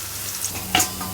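Chopped leafy greens cook in a pan, giving a soft sizzle and one short, brighter stir or scrape near the end, quiet and close with no voices.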